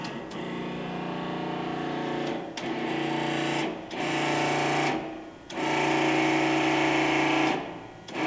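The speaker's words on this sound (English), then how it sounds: "this is a video of our DAKE model 33561 forklift tire press. It's new in 1980, and if you start it," A DAKE model 33561 hydraulic H-frame forklift tire press from 1980 runs with a steady, loud machine whir, interrupted by several brief pauses as it cycles.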